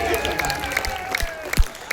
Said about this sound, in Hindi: मेरा जोरदार तालियां बजा दीजिए